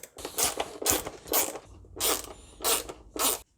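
A T20 Torx driver backing out bolts from a plastic headlight bracket on a W210 Mercedes E220 CDI, giving six bursts of close, harsh ratcheting and scraping separated by short pauses, with no talking.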